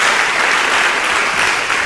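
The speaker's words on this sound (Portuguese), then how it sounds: "Dá uma salva de palmas a Jesus." Congregation in a church service clapping together, a dense steady burst of applause filling the room without letup.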